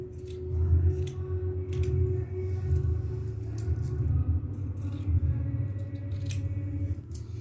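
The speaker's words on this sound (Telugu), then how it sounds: "ఈ కటింగ్ పాయింట్ దగ్గరికి నేను కట్ చేసేస్తున్నాను" Scissors cut through blouse cloth at a tailoring table, a steady close crunching snip running continuously over a low background rumble, with no talking.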